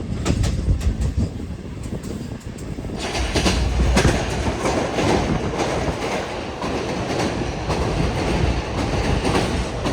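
Awam Express running at top speed past Bahran Barrage, a continuous loud rolling rumble with rhythmic clickety-clack of wheels on rails, growing fuller after a few seconds.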